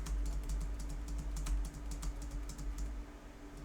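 Keys clatter on a computer keyboard, including presses of the down arrow and spacebar, in a quick, uneven run of close clicks over a low steady hum.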